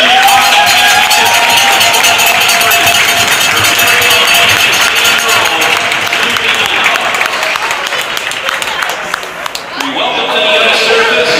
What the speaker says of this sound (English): Everyone, a round of applause for the Atlantic Junior Hockey Championship.